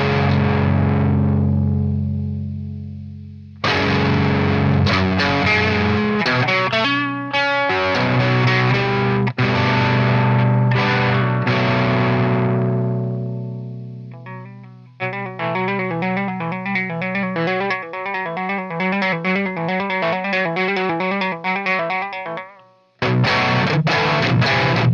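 High-gain electric guitar through an Origin Effects Revival Drive Metal pedal as its ghost control is swept, with heavy sustained chords and chugging palm-muted riffs separated by brief pauses and played loud and alone.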